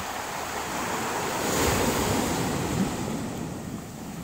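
Ocean waves breaking and washing up at a beach where people are fishing, a steady loud roar of surf with wind noise on the microphone, swelling slightly in the middle with no speech.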